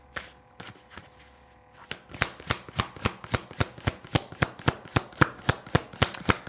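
Tarot cards being shuffled and drawn, a few soft handling sounds followed by a long, evenly paced run of crisp close riffling snaps.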